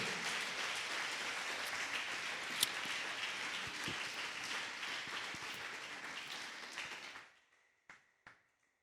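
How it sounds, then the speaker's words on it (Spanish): A church congregation claps together in sustained, dense applause for about seven seconds, then it quickly fades to a few scattered final claps. "¿Por qué no le da un fuerte aplauso a Él?"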